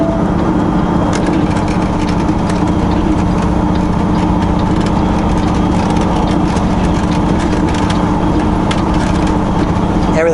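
A vehicle creeping at about 15 km/h on rough compacted snow with tire chains fitted, giving a steady loud low rumble with continuous rattling, clinking chain and shaking noise throughout.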